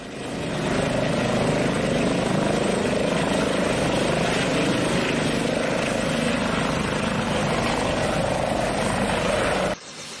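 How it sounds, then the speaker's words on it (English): An Airbus H145 helicopter hovering nearby roars steadily and loudly, its rotor thrumming continuously for about ten seconds before cutting off abruptly. "Balancing a helicopter on a fence takes serious skill, yet the Airbus H145 made it look simple."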